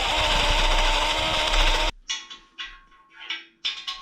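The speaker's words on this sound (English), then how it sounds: "The drill that I use is a 10mm, so that's just as wide as the pen itself." A 10mm drill bores through a KTM 250 SX motocross frame, a loud steady grinding for about two seconds, then stops, followed by faint scattered clicks and short scrapes.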